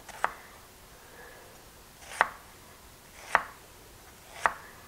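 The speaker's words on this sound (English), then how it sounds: "I'm just going to take my knife, I'm going to follow the lines of the onion." Knife slicing an onion into half rings on a cutting board, four distinct crisp chops spaced about a second apart, close and quiet with no talk.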